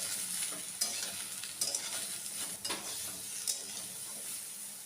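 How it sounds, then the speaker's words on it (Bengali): Cut vegetables stir-fried in mustard oil with whole garam masala, bay leaf and dried chilli, a steady bright sizzle with occasional clinks and scrapes of stirring, moderately near and with no voices. "সামান্য একটু সর্ষের তেলের মধ্যে গোটা গরম মশলা, তেজপাতা, শুকনো লঙ্কা ফোড়ন দিয়ে তার ভেতরে কাটা সবজিগুলো দিয়েছি"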